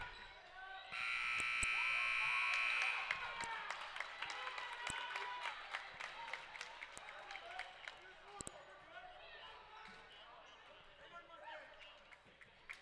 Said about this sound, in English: that buzzer is the end of the third quarter